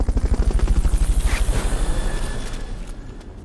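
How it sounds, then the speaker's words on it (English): Helicopter in Metal Gear Solid Peace Walker, its rotor thumping in a fast, steady pulse close and loud, then gradually fading as it pulls away. "Fulton recovery subject confirmed onboard helicopter."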